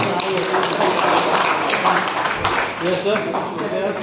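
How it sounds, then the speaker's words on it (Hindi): Audience clapping at a launch ceremony for the Delhi edition of the Dainik Ayodhya Times newspaper, a dense, steady wash of many hands throughout, with voices mixed in. "दैनिक अयोध्या टाइम्स को जोरदार तालियां।"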